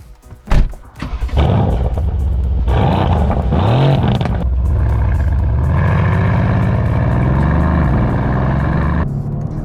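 2017 AMG C63S coupe driving on a canyon road, its engine revving hard through several gear changes with rising and falling roars, loud and close throughout, no speech.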